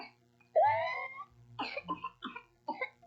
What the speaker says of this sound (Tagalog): Ganito na ba ang ubo ng anak mo?